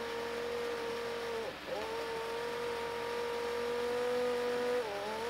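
Small electric motor of a homemade toy robot whining steadily at a constant pitch, with a brief dip and restart midway and another pitch drop near the end, close and fairly loud with no talk.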